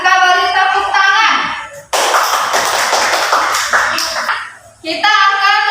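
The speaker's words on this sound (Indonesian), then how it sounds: "Kita beri tepuk tangan." Schoolchildren in a classroom give group 3 a round of applause, a loud burst of clapping lasting about three seconds between stretches of a teacher talking.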